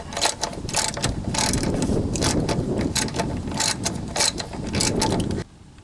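Socket ratchet loosening the oil drain plug on a 2001–2007 Toyota Sequoia, a dense run of close, rapid metallic clicks for about five seconds that stops abruptly near the end.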